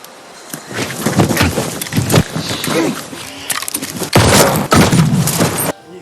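A rapid burst of loud, sharp gunshots crackles amid chaotic noise, with a couple of heavy booms near the end.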